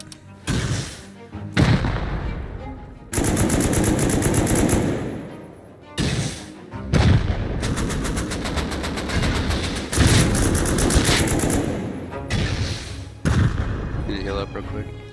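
Heavy automatic gunfire in a Rust firefight on a console community server, with long loud sustained bursts repeating across the clip and short pauses and single booming shots in between.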